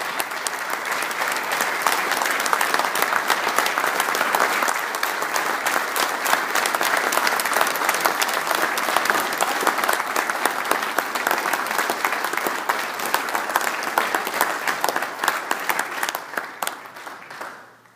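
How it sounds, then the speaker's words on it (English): Loud, dense audience applause for Coach Moon at his Hall of Fame induction, unbroken for well over fifteen seconds before tapering off at the very end. "Could you give Moon a round of applause?"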